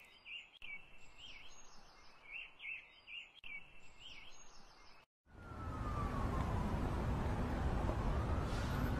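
Small birds chirp outdoors in short repeated bursts for several seconds under a soft background hiss, then a sudden loud, steady roar drowns them out.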